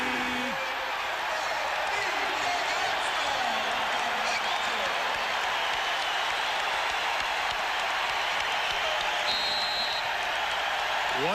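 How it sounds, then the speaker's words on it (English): Basketball arena crowd at a 1991 Bulls versus Knicks playoff game roaring and applauding in a dense, sustained wash of cheering, with whistles and brief whoops rising now and then. "We'll let you enjoy the crowd in the stadium."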